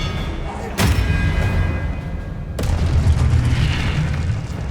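A spell burst in Hogwarts Legacy, a Disarming Charm: a sharp booming impact hits early, then a second broadband blast follows about two seconds later, each trailing into a rumbling magical wash over steady low game ambience.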